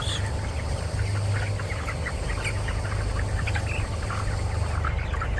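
Chickens packed into a poultry shed after four weeks of growth, a continuous distant murmur of clucking and chirps with no voices.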